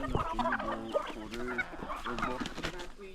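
Chickens cluck repeatedly at close range in a lively, overlapping flurry, with a faint voice present beneath them.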